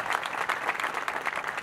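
An audience claps steadily for Mahendra Pagade at a Shambhu Raje coronation ceremony in Pune, a dense burst of many hands applauding close and continuously, with no talking.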